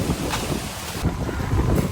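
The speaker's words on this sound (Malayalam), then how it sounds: "നല്ല കാറ്റ് കേട്ടോ, ഭയങ്കര കാറ്റ്." Strong wind gusting at the seashore, a steady broadband roar with rushing gusts and possible surf beneath, close and continuous throughout.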